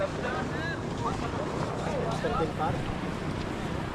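A boat engine drones steadily under strong wind buffeting and splashing water, while people talk and call out over the noise.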